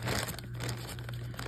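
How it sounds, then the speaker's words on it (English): A plastic package is cut open, giving brief, quiet crinkling and tearing rustles close by with no talk. "I'm gonna cut it open real quick."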